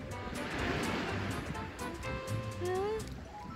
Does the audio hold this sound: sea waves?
yes